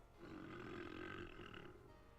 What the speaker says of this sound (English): that was a loud burp